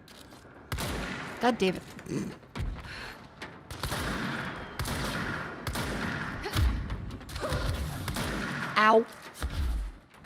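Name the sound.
shotgun firing in a video game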